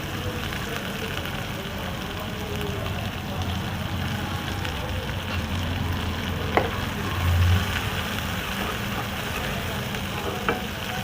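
Chopped onions fry with a cinnamon stick and cracked cardamom pods in a pan, giving a steady, close sizzle with occasional soft stirring clicks throughout.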